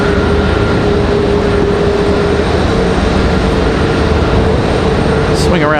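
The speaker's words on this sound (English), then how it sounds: "There's our other A321neo from Charlotte" An American Airlines-flown Airbus A321neo arriving from Charlotte at Raleigh-Durham airport gives a loud, steady, close jet roar that fills the whole clip, with a brief rising whine near the end.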